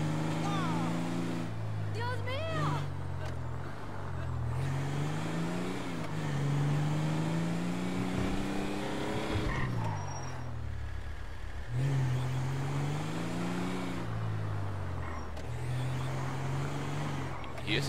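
A car drives in GTA Online, its engine droning steadily with rising and falling pitch as it speeds up and slows, while someone talks over it throughout.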